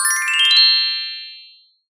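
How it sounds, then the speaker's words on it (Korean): A bright mobile phone message notification chimes once at close range, a short tinkling ding that rings out and fades to silence within under two seconds. "늦은 밤, 휴대폰 화면에 번쩍이는 메시지 알림."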